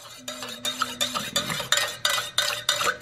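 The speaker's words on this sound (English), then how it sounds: "Let's stir it up." Spoon stirring coffee around a metal cup, with a steady run of rhythmic scraping strokes, about seven quick circles, close and clear, and a brief faint hum early on. No voices.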